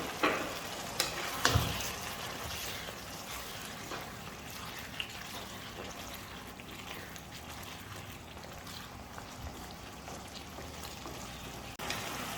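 Prawns fry on a high flame, a steady close sizzle with occasional stirring scrapes and clicks, constant and moderately loud with no talking.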